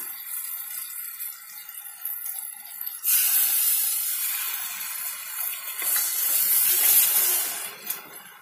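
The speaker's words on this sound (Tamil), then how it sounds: "இப்போ வந்து புளி கரைச்சல் ஊற்றிக்கலாம்" Tamarind water poured into a hot pan for fenugreek curry hits with a loud, hissing sizzle that swells and stays steady, crackling on without any voices.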